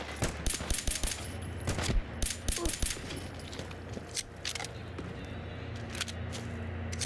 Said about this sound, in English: whatever those rifles are that they're shooting that sound like that actually hit kind of hard